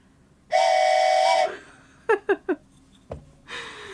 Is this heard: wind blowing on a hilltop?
no